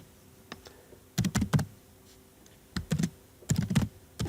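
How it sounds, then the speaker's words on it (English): Random letters and figures are typed on a computer keyboard as a new record is entered, in close, crisp bursts of rapid key clicks separated by short pauses, with no talking. "I am just typing here by random some letters here and figures."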